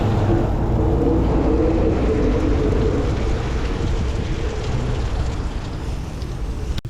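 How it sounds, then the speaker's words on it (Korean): Water sprayed over a car during a rinse-only wash in rainy weather on a road trip through Tajikistan: a loud, continuous rushing hiss and spatter that stays steady throughout. "물 뿌려서 세차를 하기로 했습니다"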